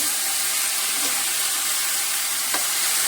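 Okra and garlic cook in a pan with a constant hissing sizzle, and a couple of brief scrapes of stirring cut through near the start and end.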